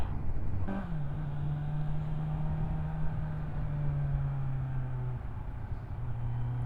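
A 2021 Kawasaki Z900 rides through traffic. After a sharp click, its engine settles into a faint, steady hum that sinks slightly in pitch, alone against a soft rush of wind and road noise.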